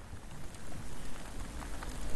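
Rain falls steadily on an open, flat highland plateau, a dense, even hiss of drops with no voices.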